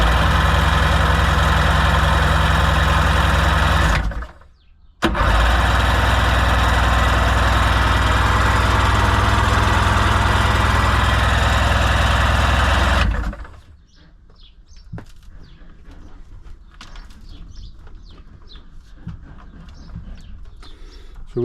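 A Seadoo GS jet ski engine, one of two broken machines, cranks loudly and steadily for several seconds, drops out briefly, then resumes before cutting off, leaving quiet background with faint birdsong.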